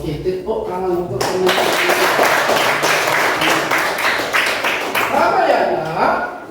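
A classroom group bursts into loud, dense applause and clapping that fills the room for several seconds, with a few voices audible beneath it.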